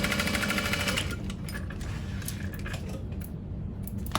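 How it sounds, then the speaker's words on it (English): A sewing machine at stitch length 4.5 runs steadily up close, stitching the side gusset of a tote bag beside the stabilizer, with a dense mechanical whir that eases slightly after the first second and carries on alone. "I'm gonna sew next to, but not through, the stabilizer"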